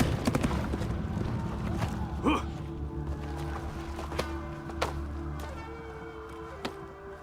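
Hooves clip-clopping in a video game, a steady rhythm of knocks running under a voice talking, with a few sharper taps standing out.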